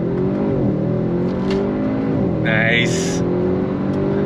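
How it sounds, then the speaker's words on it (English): An Audi RS 6 Avant launches hard from a standstill, its engine roaring loudly and climbing in pitch as it accelerates up close, while a voice briefly comments over it. "Launches hard from a dead stop."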